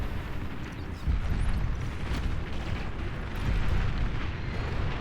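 Anti-aircraft flak fire in the real-time strategy game Beyond All Reason, a dense, continuous rumble of booming bursts that swells louder around the one-second and midway marks, steady throughout with no talking.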